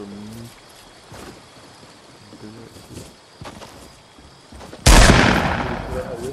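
Video game gunfire in Fortnite, a sudden loud burst near the end following quieter scattered shots, with players talking over the game sounds.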